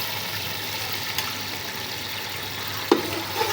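Onion paste sizzling steadily in a small amount of oil in a pan while beef biryani is being made, a continuous soft frying hiss with a brief clatter near the end.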